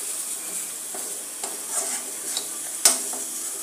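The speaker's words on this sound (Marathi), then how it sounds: "आता हेही चांगले परतून घेऊया मसाले" Turmeric and red chili powder stir-fried in a pan: a steady soft sizzle with a few light spatula scrapes and one sharp clack near the end, close and moderately quiet.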